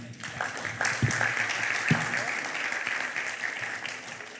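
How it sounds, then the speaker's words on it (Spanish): An audience applauds in a church-style parents' conference, a steady wash of clapping from many hands with a few sharper, closer claps standing out. "yo creo que nos merecemos un aplauso"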